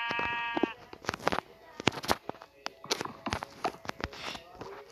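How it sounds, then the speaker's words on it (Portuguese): Sheep in the Minecraft video game bleat in a short wavering call, mixed with quick blocky footstep and clicking game noises and a voice speaking over them, all close and fairly loud. "Essa é a ovelha mais rara de encontrar em todo o jogo."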